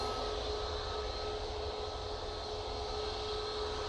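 An easyJet airliner on its takeoff roll at Manchester Airport, heard as a steady, distant roar of engine noise with a faint tonal whine, constant and unbroken throughout.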